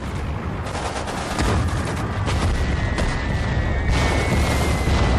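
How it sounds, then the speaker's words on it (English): A bombing run in the Sudden Strike 4 strategy game at Tobruk, heard as a dense, continuous roar of explosions and gunfire, loud and unbroken throughout. "Bombing run came through."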